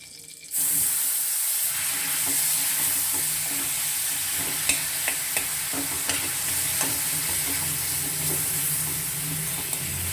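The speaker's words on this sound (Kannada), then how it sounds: "ಸ್ವಲ್ಪ ಎಣ್ಣೆ ಹಾಕ್ತಾ ಇದ್ದೀನಿ ಫ್ರೆಂಡ್ಸ್ ಈ ಬದನೆಕಾಯಿನೂ ಹಾಕಬೇಕು ಇದನ್ನು ಚೆನ್ನಾಗಿ ಫ್ರೈ ಮಾಡ್ಕೋಬೇಕು" Brinjal (eggplant) fries in oil for badanekai gojju, a steady close sizzle that starts abruptly and continues throughout, with occasional light clicks from stirring and no voices.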